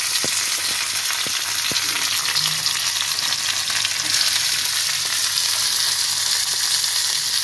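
Potatoes for aloo paratha going into hot oil in a home kitchen, giving a close, steady hiss and sizzle throughout with a few faint clinks of stirring early on.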